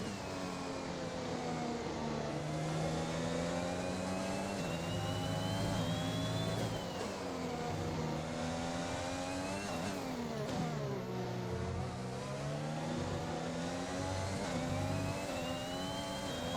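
A Formula 1 car in the F1 2021 video game drives continuously near and loud, its engine revving up and down through gear changes with no pause.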